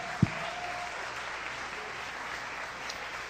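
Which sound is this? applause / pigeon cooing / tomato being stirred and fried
applause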